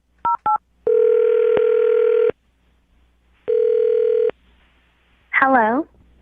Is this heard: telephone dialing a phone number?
yes